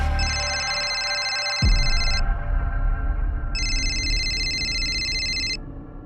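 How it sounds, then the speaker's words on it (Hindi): A telephone rings in repeated electronic bursts, bright and steady, with a pause between rings over a low background rumble. "लेकिन कुछ दिनों बाद उनका फोन आया।"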